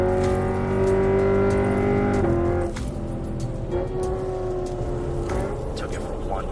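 A Lexus RC F sports car on a test drive, its engine droning steadily and loud up close with a slight drop in pitch midway, as if shifting or easing off, and faint talk underneath.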